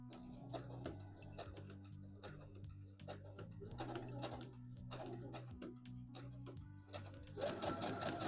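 A home sewing machine stitches a dress at close range with a steady mechanical hum and a rapid needle rhythm, broken by faint clicks and brief pauses as the fabric is moved.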